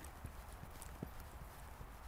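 Horse hooves thud on the ground during a riding lesson, a faint slow cadence of footfalls under a steady noisy background.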